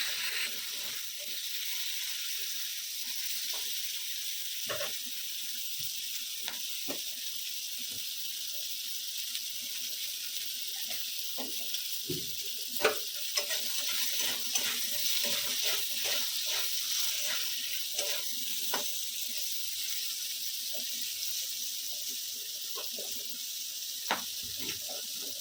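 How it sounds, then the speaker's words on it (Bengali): Flat beans frying in leftover fish oil in a pan, a steady soft sizzle with scattered light pops and clicks running throughout, fairly quiet and without talk. "ওই তেলের মধ্যে আমি শিমগুলোকে ভালো করে ভেজে নেব।"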